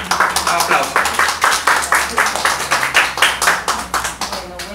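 Audience applause follows a call for a round of clapping for teachers and parents at a summer workshop presentation, a steady run of bright, close handclaps with irregular rhythm, no talk over it.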